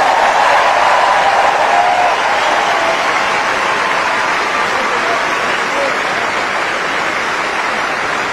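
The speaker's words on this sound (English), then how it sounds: "Ladies and gentlemen, another round of applause for your Wimbledon champions." Sustained applause from a large crowd on Centre Court at Wimbledon for the women's doubles champions, a dense, steady wash of clapping lasting throughout at close to constant loudness with no voices standing out.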